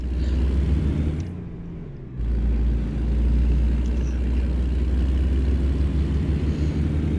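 Kenworth log truck in American Truck Simulator, a steady low diesel engine rumble that dips briefly around two seconds before returning, continuous and close, with no talking.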